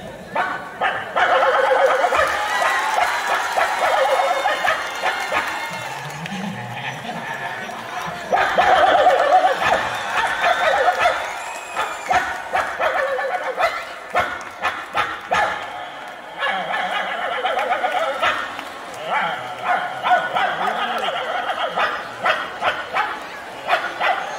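A male mimic, a teacher performing animal impressions, imitates two dogs fighting with his voice: continuous growls, yips, barks and whimpers in loud, rapid bursts that swell and fade over about 24 seconds.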